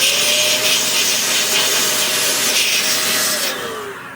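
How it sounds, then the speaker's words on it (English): A can of compressed air blows dust out of an Alienware x17 R1 laptop fan, giving a loud continuous hiss with a faint whirring fan tone that cuts off near the end. "then I'm going with the compressed air and just blow the fan."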